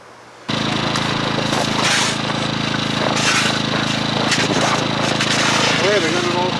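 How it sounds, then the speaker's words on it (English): A generator-powered chainsaw cuts a hole, starting abruptly after a brief quiet moment and then running loud and steady at close range with a droning buzz and shifting pitch. "I'll take the chainsaw out, chainsaw the hole out"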